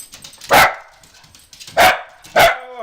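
A dog barks three times in loud, close single woofs, spaced irregularly with quiet gaps between them.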